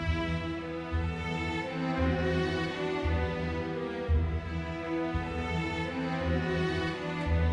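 Orchestral strings remix of Metroid's Kraid's Lair theme with first and second violins over low sustained parts; a dense, layered passage with a pulsing low figure repeating about once a second under held upper harmonies.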